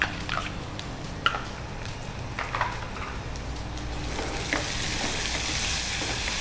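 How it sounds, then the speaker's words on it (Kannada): A tempering of spices with two green chillies and mint leaves, with cashews and raisins, sizzles in hot oil: a continuous close crackle with a few sharp pops early, growing denser and louder toward the end. "ಇದು ಒಗ್ಗರಣೆ ಬರ್ತಾ ಇರುವಾಗಲೇ"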